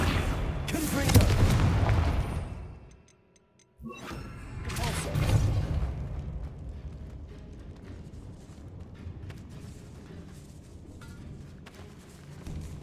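Blasting Confringo spell explosions in Hogwarts Legacy, set in a decayed catacomb: a loud booming burst near the start, a brief silence, then a second blast trailing into a long rumbling tail.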